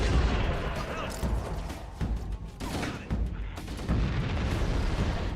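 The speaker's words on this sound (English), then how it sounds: "there are just so many explosions whenever you throw a grenade in this game" Grenade blasts in the shooter game Halo: Combat Evolved play as a dense, continuous wall of booming explosions and rattling gunfire, loud and close, with repeated heavy impacts layered throughout and no clear speech.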